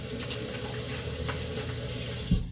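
Water runs steadily from a tap into a sink, a close continuous gush with a small knock near the end.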